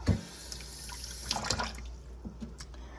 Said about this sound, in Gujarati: અને બ્લીચવાળું પાણી.